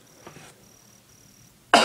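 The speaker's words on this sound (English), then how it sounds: "still got the cough" A single short, sharp cough bursts out near the end, close and loud after a quiet stretch with a faint high electronic whine.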